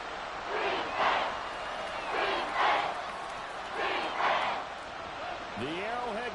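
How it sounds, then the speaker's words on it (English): Stadium crowd roaring at Arrowhead in the Madden 24 football video game, a steady loud wash of cheering swelling in repeated waves, with a short whistle-like sweep near the end. "The Arrowhead crowd in full roar."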